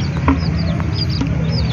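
Chickens clucking with small chicks peeping nearby, soft chirps scattered over a steady low farmyard background, moderately close.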